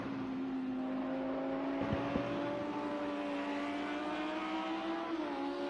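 Race cars run laps at Sonoma Raceway, a steady engine drone with a sustained tone that shifts slightly as a car moves along the track, at moderate distance with no talk.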